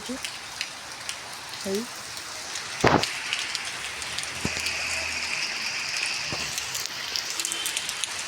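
Heavy rain patters steadily on surfaces in Bhubaneswar with a broad hiss, a loud knock partway through, and faint voices murmuring in the background.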